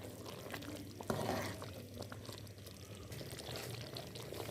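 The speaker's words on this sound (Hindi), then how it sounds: "अभी इसमें शामिल किया जाएगा चावल का आटा।" Rice flour poured into a pan for making rice pinni sweets, a soft continuous rushing pour, close and steady, with a brief clatter near the start.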